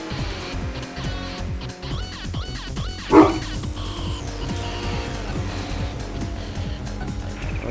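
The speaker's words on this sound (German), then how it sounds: "jetzt ist hier irgendwie Hundeaktivität" Dog barking and yipping in a room during a Tokyo Highway Challenge racing game session, a few sharp yaps standing out over a constant engine drone and game music, with whimpering notes mixed in.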